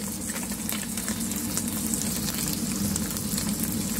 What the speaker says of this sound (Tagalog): Ayun, haluin natin.